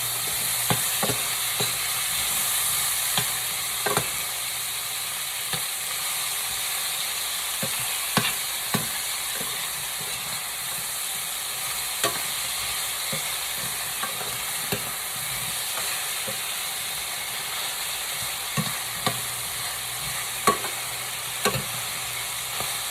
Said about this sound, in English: Saute them just a little.